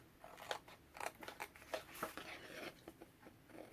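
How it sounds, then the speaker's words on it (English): Scissors fuzzy cutting around scrap paper for a mini album embellishment make quiet, close snips and crisp paper rustles in an irregular rhythm, faint and with no talk. "I'm gonna fuzzy cut around these"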